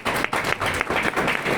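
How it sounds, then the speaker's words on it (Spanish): A church congregation applauds in praise of Jesus Christ, a dense, steady burst of many hands clapping close by that fills the whole moment without a break. "Un aplauso para nuestro Señor Jesucristo."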